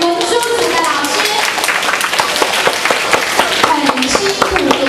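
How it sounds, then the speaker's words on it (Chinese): Dense, enthusiastic applause from an audience of students and parents at a high school seminar, continuous and loud throughout with a few louder individual claps standing out. "来用一次热烈掌声"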